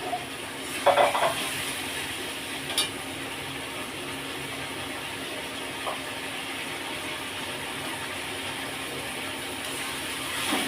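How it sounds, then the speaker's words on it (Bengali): Water used to rinse the spices is splashed into masala frying in oil with poppy seed paste, for a paneer curry: a steady, even sizzle throughout, with a couple of brief utensil clinks near the start and no talk. "আর মশলা ধোয়ার জলটা আমি দিয়ে দিচ্ছি একটু, আর একটু অল্প করে"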